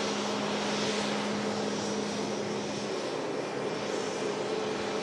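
Jet2 Airbus A330 landing, heard as a steady, loud, broad jet roar that holds unbroken throughout, with no talking.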